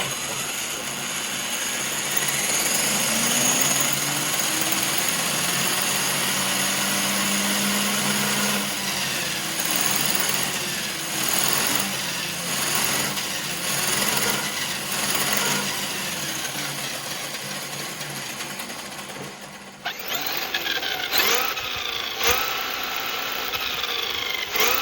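A balanced wheel on a Traxxas Sledge RC car spins up close in a steady, continuous whir with a rough, grinding edge, running unbroken for about twenty seconds before a sudden change in tone near the end.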